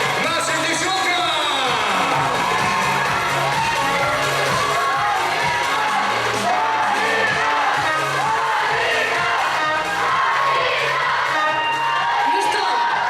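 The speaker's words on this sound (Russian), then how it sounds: "давайте все дружненько улыбнемся и громко поаплодируем нашим девчонкам" A university pageant crowd at the Miss and Mister BSU 2019 contest roars for the female contestants: dense, continuous cheering, whoops and children's shouts filling the hall throughout, with voices rising above the clamor.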